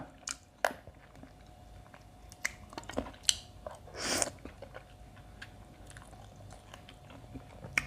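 Someone eats a spicy pounded salad loaded with chilies, with close, wet chewing, smacking bites and occasional crunches in an irregular rhythm, and one longer slurping squish midway.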